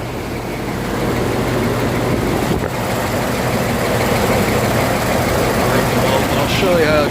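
A 540 cubic inch 8.8 liter big-block engine in an International school bus runs steadily with a low, even rumble and a constant drone throughout. The passenger-side exhaust manifold is being replaced. A faint high squeak appears near the end.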